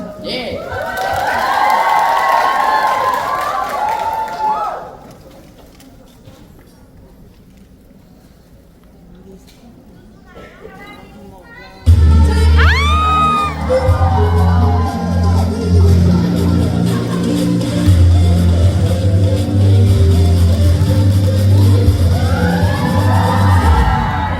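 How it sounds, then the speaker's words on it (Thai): Audience at a GMMTV fan day stage event in Korea applauds and cheers loudly for the first few seconds, fades to quiet, then a dense burst of crowd noise and whoops returns over booming stage music. "ทุกคนช่วยปรบมือให้ด้วยค่ะ"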